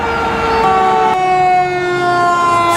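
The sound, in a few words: toy fire truck siren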